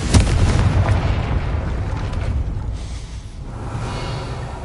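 Confringo fire spell exploding in Hogwarts Legacy: a loud booming blast at the start, then a long rumbling, crackling decay that fades toward the end.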